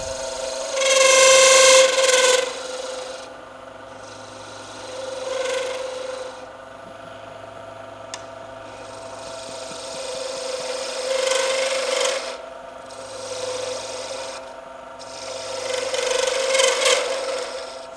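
Rough rasping strokes of sandpaper on a wooden pen blank on a lathe come in bursts over a steady machine hum, close and fairly loud, with no talking.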